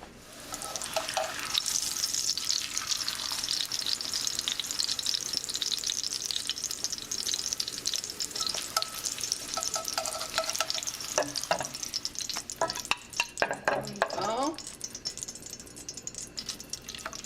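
A tortilla fries quickly in hot oil for enchiladas, giving a steady close sizzle with crackling bursts and occasional clinks of a utensil, no talking.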